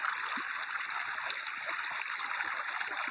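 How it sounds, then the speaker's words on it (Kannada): Irrigation water pours steadily into a sorghum field, a continuous soft rushing and trickling flow heard close by, faint and unbroken with no talk. "ಮಳೆ ಬರ್ಲಾರ ಸಲುವಾಗಿ ನೀರು ಬಿಡ್ಲತ್ತೀವಿ."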